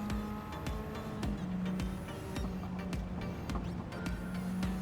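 A race car in Gran Turismo 7 at Brands Hatch holds full throttle down the straight, its loud engine note droning steadily with short sharp clicks and brief gear-change dips along the way.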